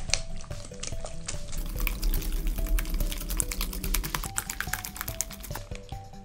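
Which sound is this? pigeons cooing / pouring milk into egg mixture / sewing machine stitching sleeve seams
pouring milk into egg mixture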